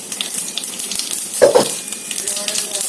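Cumin seeds and urad dal frying in a pan, a steady bright sizzle throughout with a couple of brief clinks from a utensil near the middle; no talking.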